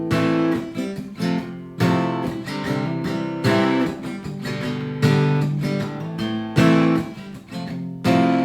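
Acoustic guitar slowly strums the chords of a song in a down, down, accent, down, up pattern, loud, close strokes with clear accented hits recurring in an even rhythm, no voices.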